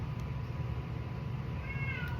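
A cat meows faintly once or twice against a steady low background hum. No one speaks.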